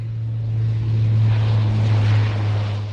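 A deportation airplane flying Haitian migrants back to Haiti produces a loud, steady engine drone that holds constant for the whole stretch, with no voices over it.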